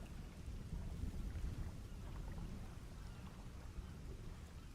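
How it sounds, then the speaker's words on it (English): Thunder during rain in the video game The Long Dark, a steady low rumbling wash mixed with rain hiss, fairly quiet and continuous throughout with no distinct cracks. "Oh, it's thundering."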